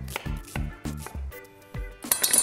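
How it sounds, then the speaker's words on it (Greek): A knife coarsely chops two onions on a cutting board in a home kitchen, making a series of sharp, close knocks in an uneven rhythm with short pauses between strokes. "θα τα χοντροκόψω και αυτά"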